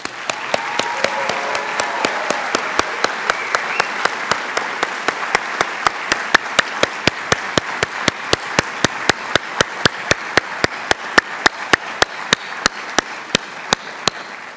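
A ceremony audience for a college of nursing white coat event breaks into sustained applause, a loud, steady wash of clapping with sharp regular claps cutting through for the whole stretch.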